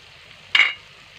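A single short sizzling burst as eggs drop into hot frying masala gravy, rising sharply and fading within a fraction of a second over a quiet background hiss.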